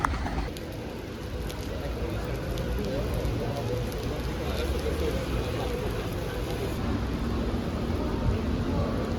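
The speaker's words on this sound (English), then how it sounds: "It's already raining pretty heavily." Heavy rain falls on a city street in Tirana, Albania, a steady dense patter and hiss on hard surfaces that runs unbroken, with faint background noise and no clear talking.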